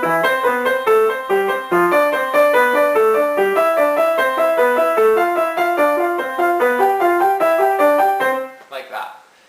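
Piano Hanon finger exercise played alone at a steady even pace, one repeated top note sounding over alternating lower notes in a continuous stepping pattern, clear and close, ending with a brief soft noise.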